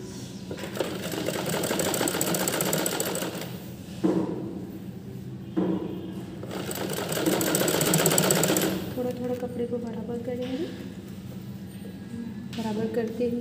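A sewing machine stitches a smocking frock in bursts of steady mechanical whirring, pausing briefly between runs, with a voice talking faintly over it.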